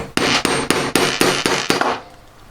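A hammer strikes a metal block seven times in a steady rhythm to raise and round its corner, each blow sharp and ringing close up, then the sound trails off into quiet.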